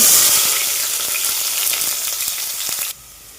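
Onion frying in a pan for a Kolhapuri-style stuffed masala brinjal dish, a loud, steady hiss of sizzling oil with faint crackles throughout, cutting off abruptly near the end; no talking.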